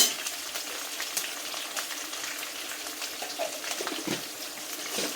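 Chopped garlic and green chillies sizzle in hot oil while being fried for poha, a soft, steady crackle with occasional stirring clinks, fairly quiet and heard on its own.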